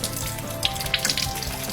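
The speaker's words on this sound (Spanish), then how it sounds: "Vamos a enjuagarnos con el chorro suficiente de agua de esta forma." A tap runs steadily while hands are rinsed under the stream, giving a continuous soft hiss of water with a few brief splashes and no voices.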